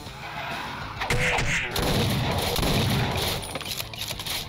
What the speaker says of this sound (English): it's a lever action shotgun, so by video game logic, it has to be faster than pump action